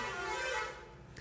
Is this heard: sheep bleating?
no